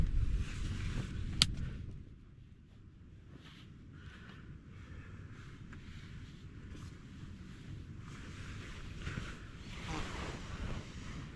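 Gusting wind buffets the microphone over a faint, distant wash of surf on a stormy coast at Nanjizal, with a sharp knock early on and swelling roar later, quiet overall and no talk.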